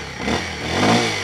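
A 2025 Kawasaki KLX230 motorcycle engine started and running close by, a steady mechanical drone that swells slightly as it revs, no voices.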